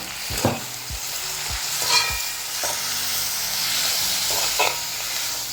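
Chili powder, turmeric and chopped tomatoes being stirred in a frying pan for a drumstick curry, with a steady close sizzle and several distinct spoon scrapes and knocks against the pan.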